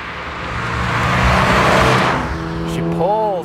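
A Toyota GR86 with a four-cylinder engine revs hard on the road, a loud, close engine roar that swells and holds, with a voice briefly heard near the end.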